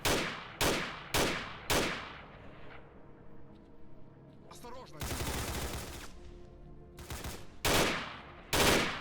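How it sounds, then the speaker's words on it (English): Bursts of machine gun fire in the video game Call of Chernobyl during a firefight in a hospital, with sharp repeated shots, a sustained rattling volley mid-clip and more single cracks at the end. "There's a machine gun."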